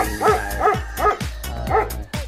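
Dog barking on a subdivision road, a run of about six loud, close barks in a steady rhythm with no talk.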